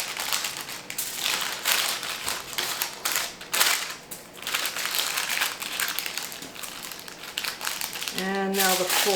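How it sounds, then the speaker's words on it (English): Parchment paper crinkles and crackles as it is folded around a seitan loaf, a near, continuous crumpling with short bursts, followed at the end by a brief voice. "Then we're just going to fold the parchment paper around it."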